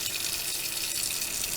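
Tap water runs steadily into a sink while radish roots from an indoor hydroponics unit are rinsed under it, a continuous close hiss and splash with no talking.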